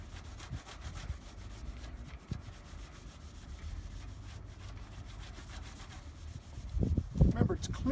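Hand rubbing of car paint with Lukat paint cleaner during paint restoration, a soft continuous scrubbing and swishing texture, fairly quiet and close, with a louder bump near the end.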